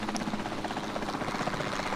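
Helicopter in Jurassic World Evolution 2 flying steadily through a dinosaur park, a continuous rotor thrum with a fluttering pulse, moderately loud and unbroken, no talking over it.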